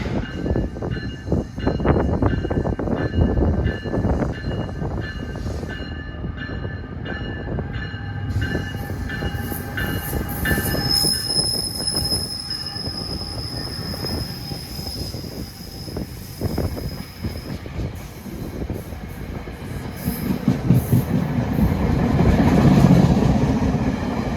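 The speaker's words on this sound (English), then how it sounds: "Approaching at 4:40 is train 173 from Boston to Washington" Amtrak train 173, running from Boston to Washington, approaches through a station with a loud, sustained rumble of wheels on rail. High wheel squeal and tonal horn-like whines sit over the roar, which swells toward the end.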